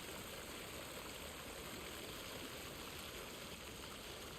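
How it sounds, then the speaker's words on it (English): Steady rushing water pours down near a witch's hut in Alan Wake II, a constant broadband splash and hiss that holds evenly throughout with no voices over it. "Look at this, dude, with the water coming down."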